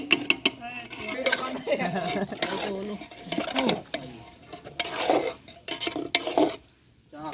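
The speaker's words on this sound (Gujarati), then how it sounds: "બટેટાનો શાક એકલસ બની ગયું તમે હલાવો" A spoon scrapes and stirs potato curry in a pot at an outdoor farm gathering, with soft intermittent clinks beneath ongoing conversation.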